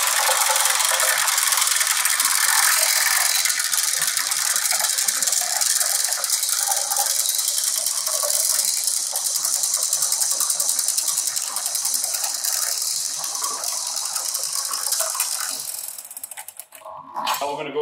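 A battery-powered Super Mini drain cleaner spins its cable through pipework with a P-trap and small-bore bends. It makes a continuous loud rattling, ratcheting whir that holds steady, then falters and tapers near the end.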